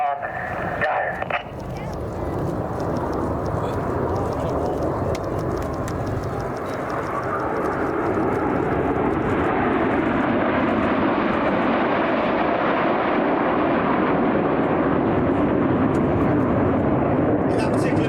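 Red Arrows display jets sweep past at the Old Buckingham Airshow, a broad roaring rush that swells and holds loud for many seconds, with a commentator talking over it.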